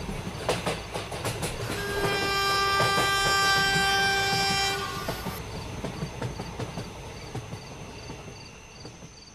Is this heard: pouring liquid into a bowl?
no